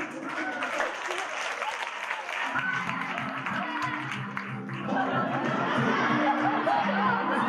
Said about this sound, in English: Give a big round of applause for whoever or whatever this is